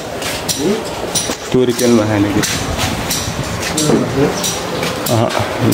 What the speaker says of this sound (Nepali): तोरी पेल्ने मेसिन यस्तो छ